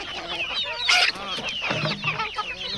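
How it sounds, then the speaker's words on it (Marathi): Chickens and a rooster on a village poultry farm cluck and squawk in quick overlapping calls, close and lively, with one louder squawk partway through. "बघा कोंबडा वगैरे बघा तुम्ही"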